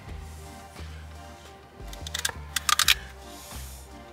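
A knife chops celery and parsley on a cutting board, making quiet irregular taps, then a quick cluster of sharper cuts in the middle.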